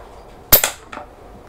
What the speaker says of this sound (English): I'm going to shoot that left hand milk tin